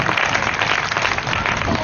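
Audience at a school annual function breaking into applause, a dense continuous wash of clapping heard close and steady throughout, with faint voices mixed in.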